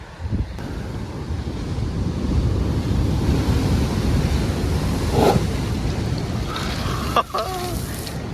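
Ocean surf rushing against a rocky shore on a motorcycle tour through El Salvador and Honduras, a loud continuous wash with wind buffeting the microphone. A brief spray-like burst comes midway, and a short sharp clatter follows near the end.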